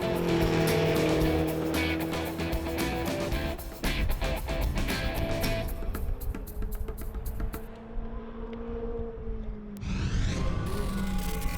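Ferrari sports car running on the Speed Vegas race track outside Las Vegas, engine note rising and falling loudly with tire noise, steady throughout before a brief dip near the end.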